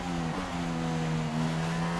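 An F1 car engine in the racing game F1 2016 drones at steady, high revs, its buzzing harmonic tone holding almost level with a slight dip and recovery early on.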